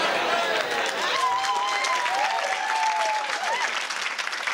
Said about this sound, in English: A round of applause for knife crime.